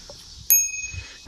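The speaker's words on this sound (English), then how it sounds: "And the Mac Fox doesn't have this bell." A single crisp ring from the bicycle bell on an Emma e-bike, close and clear, with a long ringing decay over quiet outdoor background.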